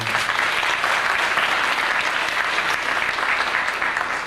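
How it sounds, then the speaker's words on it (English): A church congregation breaks into sustained, dense applause that holds steady and loud throughout, a continuous wash of many hands clapping together. "Give her another round of applause."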